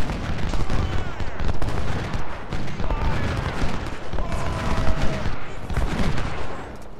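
Musket volleys in Ultimate General: Civil War at the Battle of Cold Harbor crackle nonstop, dense overlapping shots rolling like a continuous fusillade with faint talk underneath.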